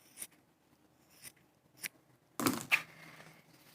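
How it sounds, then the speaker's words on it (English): Scissors snip through quilting fabric for a sasher tool, a few soft, quiet cuts spaced apart, then a louder, sharper crunch of the blades closing near the end. "Let's cut that fabric off."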